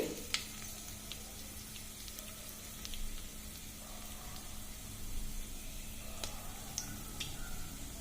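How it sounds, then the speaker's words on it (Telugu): Tempering seeds and a dried red chilli crackle and pop in hot oil over a steady sizzle, with scattered sharp snaps, fairly quiet and close. "అదిగోండి తాలింపు చిట్పట్లాడుతుంది"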